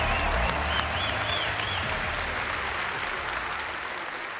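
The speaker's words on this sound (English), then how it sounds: "If you would, another round of applause," A large crowd at the Bethesda E3 2015 media showcase applauds, loud sustained clapping and some cheering that fills the hall, with a faint musical tone sweeping underneath and the ovation easing slightly toward the end.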